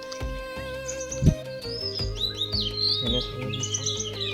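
Birds chirp and tweet continuously in the mountains near a hillside temple, with bright overlapping calls over a calm background and a brief voice speaking partway through.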